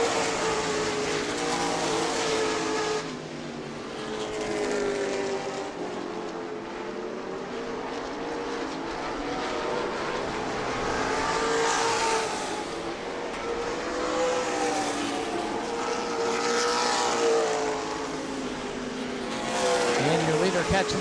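Race cars roar around the New Smyrna racetrack during the Prelude to the Cup event, engines rising and falling in long passing sweeps under loud announcer commentary.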